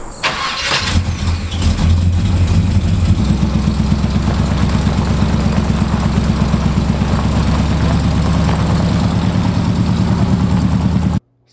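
A Squarebody Chevy truck engine cranks, catches and settles into a loud, steady rumbling run with a regular low pulse before cutting off at the end.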